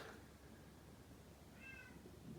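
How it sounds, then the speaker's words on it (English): A cat meows in the background of a home bar while a drink is being mixed, with one drawn-out, moderately clear meow near the end of a quiet room. "that damn cat is annoying"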